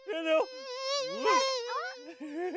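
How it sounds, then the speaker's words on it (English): A cartoon mosquito buzzes in a whiny, wavering, musical tone that rises and falls in pitch, with a few short bursts and swoops, clear and up close. "Oh, listen to the sound the mosquito makes."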